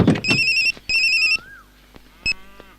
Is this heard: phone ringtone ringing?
yes